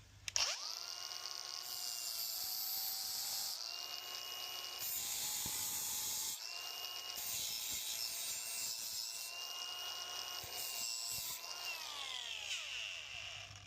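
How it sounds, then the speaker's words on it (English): An angle grinder grinds a flat spot on metal while wiring box trailer lights: a sustained, fairly loud high whine with a few brief pitch dips and restarts as the tool bites and eases off the workpiece. "We're just going to kind of grind a nice flat spot on this one side here"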